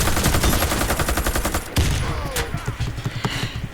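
Rapid automatic gunfire from an Earthshaker T27 rifle in the shooter game Warface, a dense stream of loud shots running nearly the whole time with a brief pause partway through.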